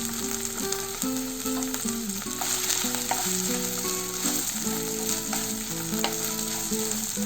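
Green capsicum, green chilli and onions fry in a pan with a continuous, even sizzle that holds steady throughout, while a tonal melody runs beneath it.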